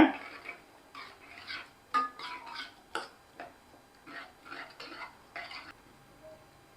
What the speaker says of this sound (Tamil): இதை நல்லா கலந்து விட்டுக்கோங்க